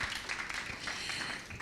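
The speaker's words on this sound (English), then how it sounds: "A round of applause for Shazri." Steady audience applause at a COP26 Resilience Hub event, a dense even patter of clapping that continues at moderate level without any talk.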